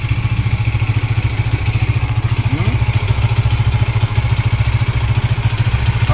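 A motorcycle with ABS and front and rear disc brakes, freshly fitted with a new battery, idles close by in a steady, rapid, even thrum that holds unbroken throughout, with no talk over it.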